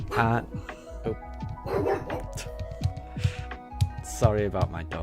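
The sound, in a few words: dog barking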